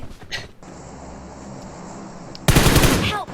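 Gunfire in the video game PUBG Mobile: a brief burst near the start, then a steady hum, and a loud rapid automatic burst of shots near the end.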